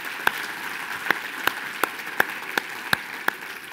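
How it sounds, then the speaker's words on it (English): Audience applause at a sales event, faint scattered clapping in the background with a few sharp, distinct claps standing out at a steady, spaced rhythm. "Let's give Matt King a huge round of applause"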